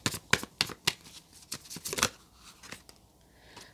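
Tarot cards are shuffled close by in quick, crisp riffling bursts that spread out and soften toward the end, with no voices.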